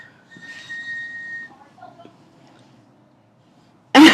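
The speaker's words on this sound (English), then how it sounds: "That's my dad whistling, like so annoying." A man whistles in the background indoors, a thin sustained tone followed by a few brief faint notes, quiet and distant, before a sudden loud noise burst at the end.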